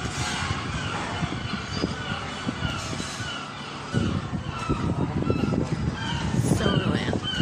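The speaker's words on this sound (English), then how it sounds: "seagull won't stop." Gulls cry out repeatedly over a busy, noisy outdoor background, their calls rising and falling and blending into the steady din.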